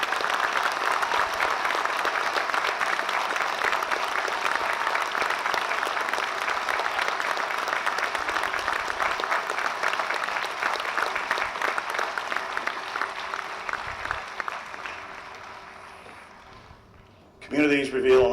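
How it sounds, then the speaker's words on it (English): Sustained audience applause at a commemoration ceremony honoring veterans, dense and steady for about fifteen seconds before tapering off, with a brief burst of sound at the very end. "A round of applause, please, for all the veterans who put their lives on the line"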